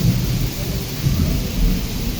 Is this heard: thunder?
yes